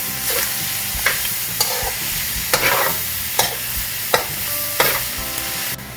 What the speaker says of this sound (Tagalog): i-mix lang siya gamay before we're gonna add water to this one